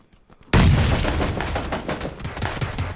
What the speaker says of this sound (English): there's a guy throwing a grenade at you